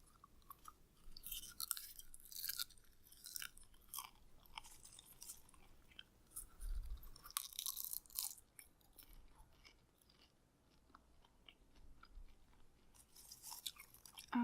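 Close, crisp crunching of popcorn being chewed, in irregular bursts with brief pauses between bites.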